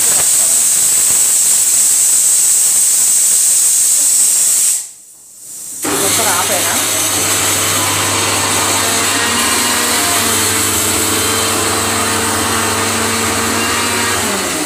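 Mixer grinder grinding raw mango chutney, a loud high whine that cuts out for a moment, then restarts as a lower steady motor hum with grinding noise.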